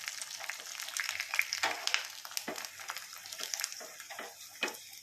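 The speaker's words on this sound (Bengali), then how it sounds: "বৃষ্টির দিনে এখন পাপড় ভেজে নিচ্ছি আস্তে আস্তে করে" Papad being fried in hot oil in a home kitchen on a rainy day, a steady close crackling sizzle with brief bursts of bubbling that keeps going throughout without talk.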